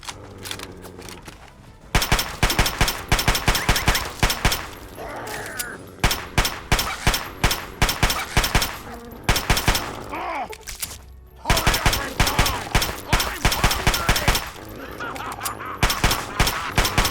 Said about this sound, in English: Are there more people shooting at me?